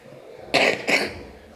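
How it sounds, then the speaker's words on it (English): A sick child with HIV and slightly labored breathing gives two hoarse coughs in quick succession, close and fairly loud, with a quiet pause afterward. "has a nasty cough and his breathing appears slightly labored"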